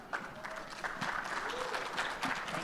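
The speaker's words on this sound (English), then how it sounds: "Another round of applause." An audience claps at a planners' symposium in Guam, a moderate round of applause heard at some distance, with a voice speaking briefly over it.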